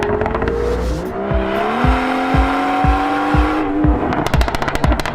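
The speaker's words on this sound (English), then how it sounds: "Can we play back the clip from that original M440i with that really nice M exhaust?" A BMW M440i fitted with the M Sport exhaust revs hard. The engine note climbs and falls in a steady rising pitch, broken by a rapid run of loud pops and crackles from the exhaust. It is close and loud, with no talk.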